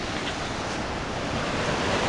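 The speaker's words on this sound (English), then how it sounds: "I believe that this is the Wallowa River coming out here." The Wallowa River pours out below a dam, a dense steady rushing roar of fast water, loud and close with a slight swell toward the end and no voices.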